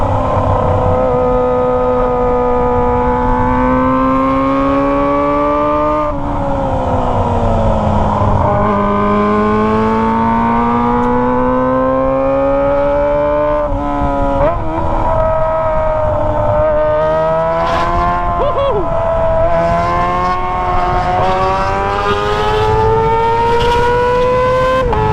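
A Kawasaki ZX25R motorcycle fitted with a Toce exhaust screams at high rpm, its loud, sustained engine tone rising and falling as it rides through a busy area for the full length, with no talking.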